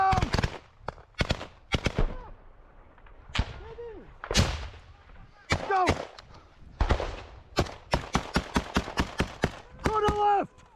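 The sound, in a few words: machine gun fire in combat footage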